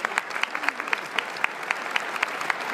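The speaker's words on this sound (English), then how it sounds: "So give these guys a big round of applause, the Jefferson County team." Audience applause at a health summit presentation, a short burst of steady clapping from a moderate crowd, fairly close and even throughout.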